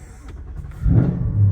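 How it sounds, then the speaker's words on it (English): A 2019 Ford Mustang GT engine with a 10-speed transmission cranks and catches, then rumbles low and steady at idle, close by with no talking. "So, all right, let's start the car."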